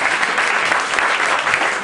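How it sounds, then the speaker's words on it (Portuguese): An audience at a lecture on legislation and ethics claps together in a dense, steady burst of applause, loud and close, with no talking over it. "Então, aplausos aí."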